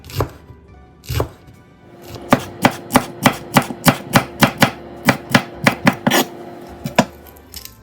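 A knife cuts Indian broad beans (amarakka) on a board: a few spaced chops, then a quick, regular run of about twenty crisp, close knocks.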